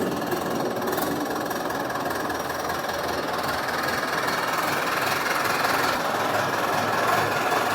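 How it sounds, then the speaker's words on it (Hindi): Tractor fitted with a rotavator drives toward the field through village lanes on a cool morning, its engine a steady, continuous rumbling drone with no pauses. "और चलते हैं ट्रैक्टर को लेकर।"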